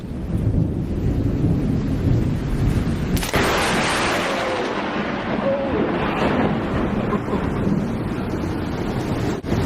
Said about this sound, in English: he got an up-close and personal look at how bright, loud, and powerful a lightning bolt truly is.